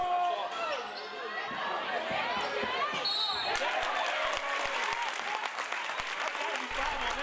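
Cheering and applause from a crowd at a high school boys basketball playoff game against Burlington Township, a busy roar with sneaker squeaks and ball bounces underneath, while a commentator talks over it.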